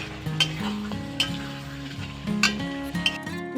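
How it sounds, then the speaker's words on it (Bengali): Mutton sizzles and fries with spices in a pan while a spoon stirs and scrapes repeatedly, with occasional metallic clinks over the steady crackle. "খাসির মাংসগুলো মশলাসহ খুব ভালো করে একদম ভাজার মতো করে কষিয়ে নেবে"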